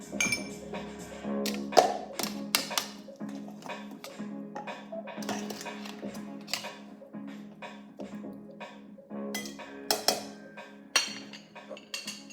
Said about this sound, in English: I'm adding some ice.